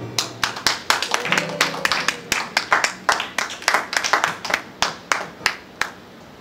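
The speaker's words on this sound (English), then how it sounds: "a big round of applause to him" A small audience at a gospel song event claps for a singer, Dr. Kenneth Gold, with a run of distinct, fairly close handclaps in a loose, uneven rhythm rather than a dense roar.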